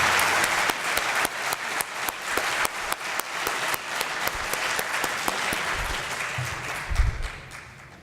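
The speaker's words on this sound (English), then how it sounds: "rousing applause for today." Loud, sustained audience applause fills a signing day ceremony, with dense clapping from a large crowd that holds steady for several seconds before tapering off near the end.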